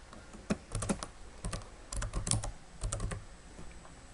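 Fingers type quickly on a computer keyboard during office software data entry, giving a close, quiet run of irregular clicking keystrokes in short bursts with brief pauses.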